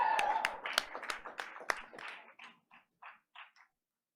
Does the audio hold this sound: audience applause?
yes